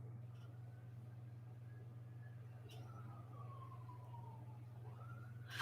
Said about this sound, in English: Oh, sirens.